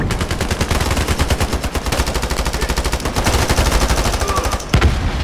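Automatic gunfire in the online shooter Ironsight rattles on in a rapid, steady stream of close, loud shots with no pause, ending with a heavier thump.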